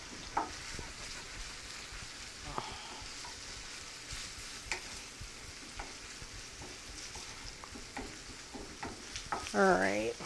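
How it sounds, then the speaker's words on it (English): A spatula scrapes and stirs cheesesteak filling in a sizzling frying pan, with repeated clicks and scrapes over a steady soft sizzle, close by. "I was stirring a little bit too hard"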